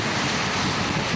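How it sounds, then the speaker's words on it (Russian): Heavy rain pouring steadily in a city, a dense continuous hiss of water filling the whole clip, loud and close with no voices. "Вот кадры сильного дождя в Автограде."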